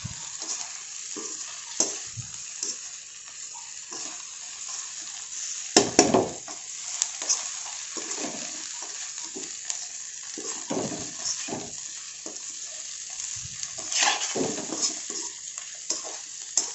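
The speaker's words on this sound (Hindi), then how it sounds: "बस इसको 2 मिनट और हम भूनेंगे तेज आंच पे।" Onion bhindi with mango powder and garam masala stir-fries on a high flame, a constant close sizzle broken by frequent scraping and clattering stirs in the pan, with no voices.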